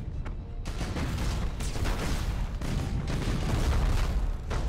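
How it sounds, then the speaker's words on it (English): Continuous rumbling blasts and booming explosions from a space battle in the video game Battlefleet Gothic: Armada overlap in a dense, loud barrage with no pauses. "Oh, look at those explosions!"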